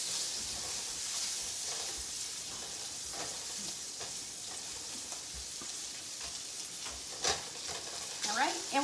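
Shrimp sizzle and fry in a hot pan, a steady close hiss with stirring scrapes throughout and a few louder clatters near the end, no talk.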